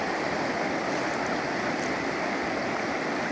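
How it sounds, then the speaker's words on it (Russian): A fast, turbulent river running near its mouth into Lake Baikal, swollen and rough, heard as a steady broadband rushing roar at moderate level with no voices. "здесь вот река такая течет еще тоже"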